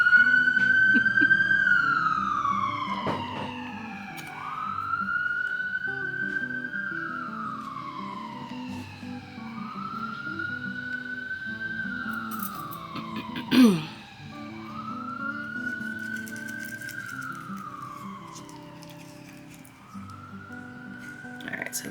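An ambulance siren wails outside a few blocks from a hospital, rising and falling in repeated sweeping cycles, moderately distant, with a brief sharp knock partway through.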